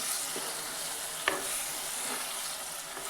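Gram flour sambharo, a Gujarati chili-pepper relish, sizzles steadily in hot oil while a spoon stirs through it, with a single sharp scrape of the utensil partway through; the cooking is close and fairly quiet, and no one speaks.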